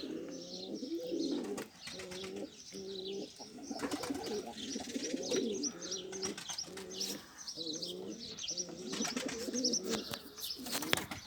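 Pigeons in a loft coo in steady, repeated throaty phrases close by, with faint chirps and occasional wing flutters in the background.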